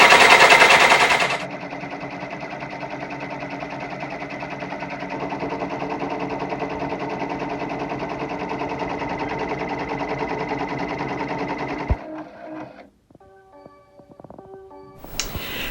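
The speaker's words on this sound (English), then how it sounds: "it is stitching not only the center stippling, but it is also tacking down the center fabric so it doesn't move" An embroidery machine stitches center stippling on a fabric mug rug in a 5x7 hoop, a rapid, steady mechanical chatter that runs continuously, then stops with a few clicks and short whirs near the end.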